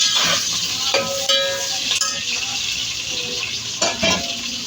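Onions frying for pulao in a pan over a slow gas flame, a steady close sizzle with occasional clinks and scrapes of a stirring spoon, no voices.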